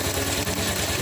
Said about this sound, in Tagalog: Rumanda siya kaya lang palyado yung pag ganyan.